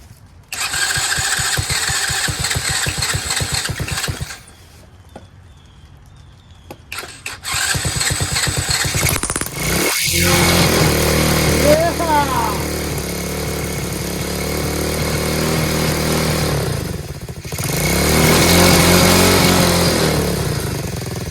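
A Chinese Tao Tao 125cc ATV quad engine idles steadily after being taken off choke, with a brief throttle blip midway before settling back into an uneven, loud close-up idle.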